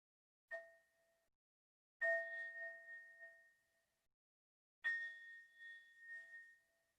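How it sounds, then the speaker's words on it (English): Meditation bell struck three times in a quiet room, each clear metallic ding ringing out and decaying, the last two strikes fuller and sustaining for over a second. "Now, as I ring the bell, maybe you open your eyes."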